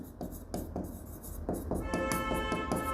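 Pen strokes scratch across paper as a bank reconciliation statement with three columns is drawn up, a steady run of short rubbing strokes close by with no talk.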